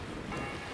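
Strong wind blowing outdoors on a clear day, buffeting the microphone in a dense, steady roar that lasts under a second, with no voices.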